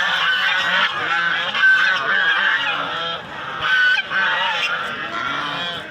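Geese honk loudly and continuously at a market stall, a dense overlapping chorus of many nearby birds with no clear pauses.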